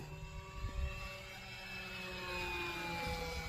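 An FMS PC-21 Pilatus V2 radio-controlled model plane in flight, giving a faint, steady electric whine with drifting pitch that holds at a distance through the whole stretch, with no one talking.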